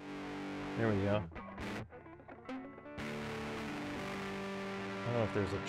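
Distorted electric guitar chords crunch through a Fostex MR-8HD recorder, with bursts of fuzzy strumming and a lingering buzzing sustain, recorded at low volume.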